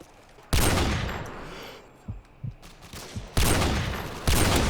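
Loud close bursts of automatic gunfire in the video game Call of Duty MW2, three heavy volleys separated by quieter gaps with a few soft thuds between.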